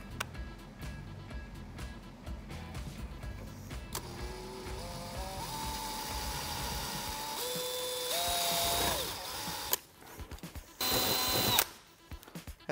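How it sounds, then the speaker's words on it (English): A power drill boring out dimple holes in a tailgate panel on a 2018-2021 Jeep JL, with whining bursts that rise in pitch as the bit bites, then short separate spins near the end, close up. "Then we're gonna flip it around, drill out this one as well."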